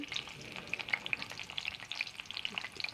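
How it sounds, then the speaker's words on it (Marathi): Chopped garlic and green chilies frying in hot oil in a pan, a continuous close crackling sizzle with dense bright pops throughout, no voices. "तेल गरम झालेलं आहे तर आपण आता त्याच्यामध्ये प्रथम लसूण टाकणार आहोत"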